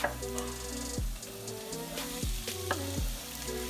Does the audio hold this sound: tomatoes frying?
yes